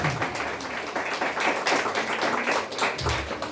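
A church congregation claps together during a Spanish-language service, dense broadband hand-clapping sustained at a steady loudness, with no voices standing out.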